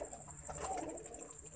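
Pigeon cooing, a soft low murmur from a loft of fancy pigeons, blended into steady ambient noise without clear breaks across the short stretch.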